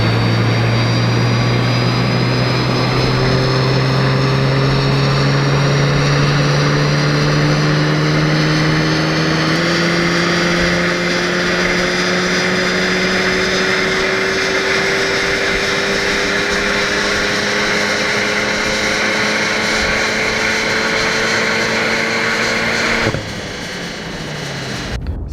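A Renault Alpine A110 engine runs on a Maha dyno during a chiptuning session, its loud, continuous whine climbing steadily in pitch through a long pull before suddenly cutting off near the end.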